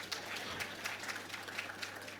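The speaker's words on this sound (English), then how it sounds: "So, yes, you can clap. More people can clap." A scattered, faint round of clapping comes from an audience at a government health survey presentation, sounding distant and thin with individual claps standing out.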